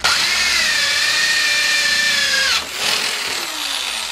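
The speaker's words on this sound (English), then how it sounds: "as you're going up, you're kind of progressively pushing the drill inward as you get more space" A power drill boring upward into a wall to run wires, a loud close motor whine with a grinding bite that drops sharply as it breaks through, then winds down and fades.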